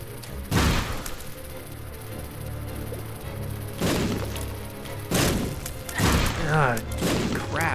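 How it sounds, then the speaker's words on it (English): Bombs blowing up in the video game The Binding of Isaac: Wrath of the Lamb, several loud booming blasts spaced a few seconds apart over steady game music, with a player talking between them. "These bombs are big trouble for me. Look how destructive they are."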